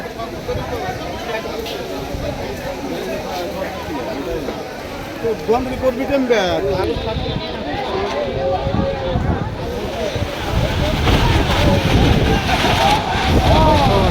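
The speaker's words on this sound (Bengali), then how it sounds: "বাতাসের গতিবেগ এতটাই বেড়েছে" Strong Kalbaishakhi storm wind roars steadily across a village market, a loud, continuous gusting rush that swells toward the end, with voices talking underneath.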